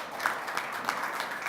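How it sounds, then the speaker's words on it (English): At an official government event in Edo, a modest audience gives a short round of applause: moderate, fairly even clapping with a few sharper claps standing out, heard alone without talk. "Give Excellency a round of applause."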